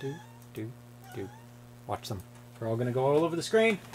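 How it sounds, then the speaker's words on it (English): A real cat meows several times, short cries and then a longer drawn-out wail, close and clear under a steady mains hum, while a person talks over part of it. "And a meowy real cat."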